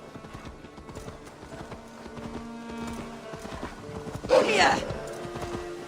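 A horse in the video game Assassin's Creed Valhalla gives steady, rhythmic hoof clip-clops, with people talking over it and a short shout partway through.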